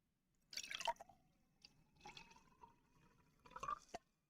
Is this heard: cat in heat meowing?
no